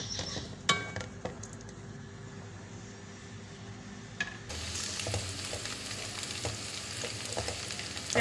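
Chopped onions sizzle in hot oil in a pan, a steady frying hiss that jumps louder midway as they go in, with occasional utensil clinks and stirring.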